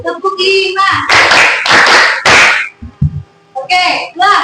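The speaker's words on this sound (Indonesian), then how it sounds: "Tepuk 5." Hand claps from a children's clapping game, a close, sharp burst of several quick claps in a row, then a pause and a few more near the end, with a teacher and children talking in between.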